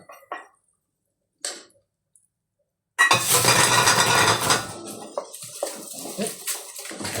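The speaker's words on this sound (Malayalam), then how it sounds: "പിന്നെ ഇളക്കിയൊക്കെ കൊടുക്കാം." A loud, rough scraping and sloshing starts partway in and continues steadily as a spoon stirs thick cooked tapioca in a pot, after a few quiet clinks.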